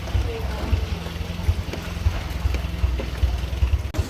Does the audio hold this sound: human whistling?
no